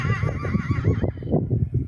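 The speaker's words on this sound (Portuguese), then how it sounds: "Tem um cavalo aqui" A mare neighs in a long, wavering whinny that lasts nearly two seconds, fairly close and full, with no voices over it.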